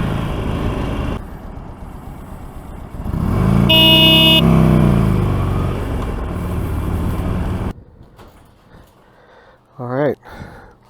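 A Harley-Davidson motorcycle rides through traffic with a steady engine rumble and wind rush. A loud horn blast sounds near the middle, then the noise drops away sharply to a quieter background with a brief wavering tone near the end.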